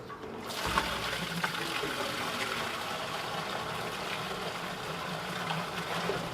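Fuel tank treatment liquid pours steadily from a heavy container into the fuel tank of a 1966 Ford F250, a continuous gushing, splashing flow that starts abruptly and runs close and unbroken.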